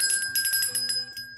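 A bright bicycle-style bell rings several quick times in a short sound effect, its metallic tone lingering between strikes, with no talking.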